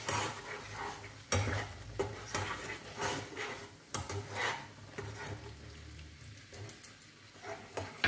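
Spice paste sautéing with milk in a pan, a soft continuous sizzle broken by repeated scrapes and taps of a spoon stirring against the metal, close and steady with no talking.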